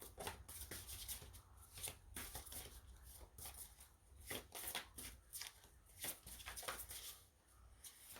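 Tarot oracle cards being shuffled, a quiet close series of repeated riffling bursts at an uneven rhythm, no voices.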